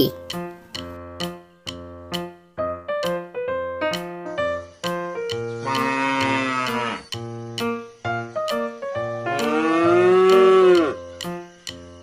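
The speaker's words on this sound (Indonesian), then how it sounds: "Sapi." A cow moos twice, each a long, loud lowing call, set against a bright, plucky children's tune with a steady rhythm.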